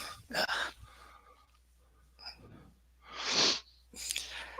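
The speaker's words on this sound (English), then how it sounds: "Sneeze." A single sharp sneeze bursts out nearby, surrounded by a few short breathy huffs and sniffs.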